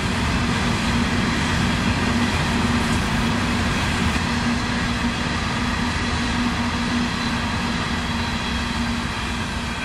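A CSX hopper freight train rolls past on the S-Line, a steady loud rumble with a constant low drone that fills the whole span without letup.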